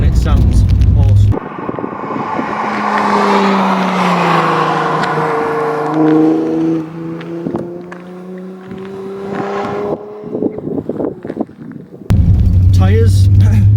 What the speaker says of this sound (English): This has a straight through stainless steel exhaust system on it with a Scorpion back box, and that's it, and it sounds awesome.